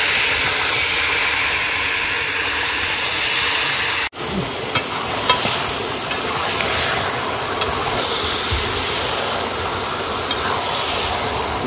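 Steady, dense sizzling of meat frying in a wok, with a sharp clatter partway through and occasional scraping as it is stirred; no voices.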